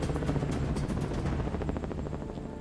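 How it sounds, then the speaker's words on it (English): A Black Hawk helicopter loaded with fourteen Army personnel lifts off, its rotor thumping in a rapid steady chop over a loud continuous engine roar. "In its critical test, the helicopter takes off, loaded with 14 Army personnel."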